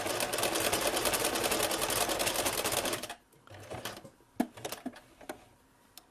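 A sewing machine stitches a fabric kitchen potholder, a fast, even mechanical rattle running steadily for about three seconds, then stopping, followed by a few quiet clicks and handling sounds as the presser foot is lifted and the fabric turned.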